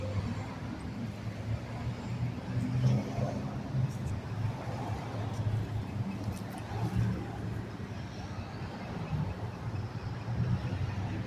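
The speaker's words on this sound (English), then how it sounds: "A lot of traffic." Steady road traffic on Highway US 1 beside a roadwork zone, a continuous low rumble of passing cars with swells as vehicles go by, heard outdoors and fairly close.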